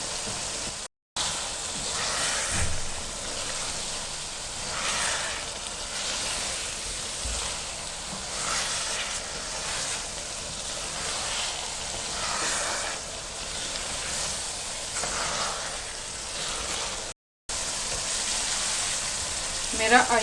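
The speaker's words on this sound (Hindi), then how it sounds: "आपने तकरीबन 5 से 8 मिनट तक मछली को भून लेना है" Pieces of fish frying in a pan for a fish curry produce a continuous, even sizzling hiss like light rain, moderately quiet and steady throughout with only small fluctuations.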